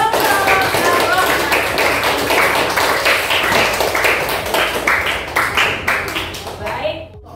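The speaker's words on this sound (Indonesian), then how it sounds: "Beri tepuk tangan untuk kelompok Ar-Rahman." A classroom of students claps for a student discussion group, a dense, steady burst of applause that carries on for several seconds and thins out at the end.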